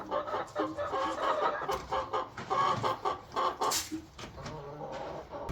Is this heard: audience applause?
no